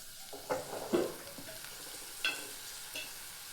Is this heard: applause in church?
no